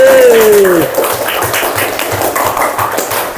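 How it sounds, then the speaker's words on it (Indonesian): A classroom of students applauding group 1, brief loud speech-like tone at first, then a short burst of scattered clapping and tapping that stays steady to the end. "Kasih aplaus untuk kelompok"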